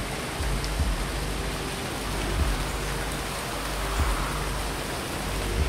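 Steady rain on an alien planet in a video game, falling from very small clouds as a continuous close hiss with faint low patters, no voices.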